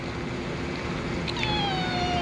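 A ragdoll Persian cat meows with a rising then falling tone, fairly close and clear over a steady background hiss, with no talk during the call.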